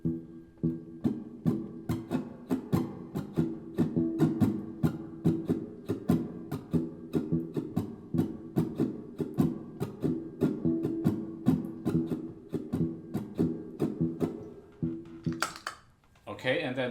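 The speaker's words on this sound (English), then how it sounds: "The Cascara pattern sounds like this on top of it." Sharp, dry percussive clicks tap out a steady cascara pattern layered over son clave, a rapid train of evenly spaced hits running for most of the stretch, close and clear, ending with a brief noisy burst.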